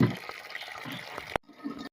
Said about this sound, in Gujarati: જો પાણી આવે છે તો આપણે અહીંયા કેરબો ભરવાનો છે